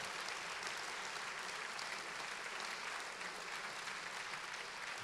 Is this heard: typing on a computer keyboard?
no